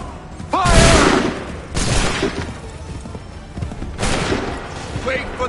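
Volleys of gunfire ring out in the Star Wars Outlaws video game after a command to fire, with loud bursts near the start, around two seconds and again near four seconds, and shouted voices between them.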